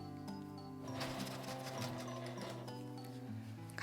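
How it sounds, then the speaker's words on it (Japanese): A sewing machine edge-stitching along the top rim of a small fabric cosmetic bag, running as a continuous close mechanical whir with a rapid ticking rhythm throughout. "上端に端ミシンをかけます。"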